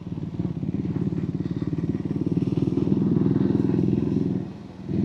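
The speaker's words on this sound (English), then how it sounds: "I never get bored of the sound of this engine." Triumph Scrambler 400X single-cylinder engine and exhaust thumping steadily at close range while riding through central London, with a rapid, even pulse that dips briefly near the end before rising again.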